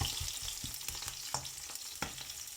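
Sautéing in a pan before chicken goes in for a hoisin chicken dish: steady close sizzle with several sharp utensil scrapes and taps against the pan, no voices.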